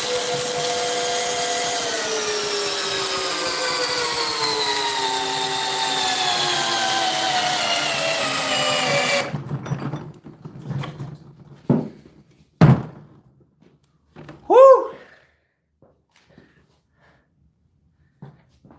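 A Dewalt DCD1007 hammer drill in drill mode at speed 1 drives a 10-inch by 1/2-inch lag bolt with a loud, close motor whine that slowly falls in pitch as it bogs down. It then stops, leaving a few knocks and short bursts.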